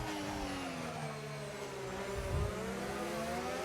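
The onboard engine of an F1 race car in the F1 25 video game at Las Vegas, a loud continuous high whine with rising pitch under acceleration and a low rumble beneath, steady throughout.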